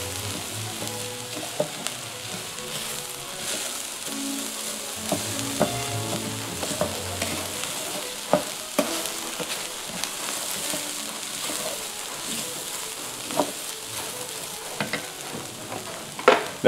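Minute rice and vegetables stirred in a frying pan for dirty rice, a steady sizzle under repeated scraping and clinking strokes of the spoon, close and fairly even throughout.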